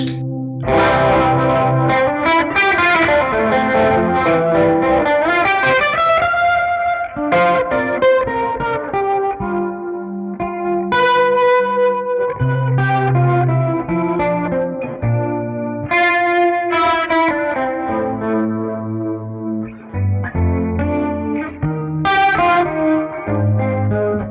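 Electric guitar through a Revv D20 amp with harmonic tremolo and an upper octave effect, played loud and continuous with sustained chords and melodic lines pulsing with a wobbling, chorus-like modulation.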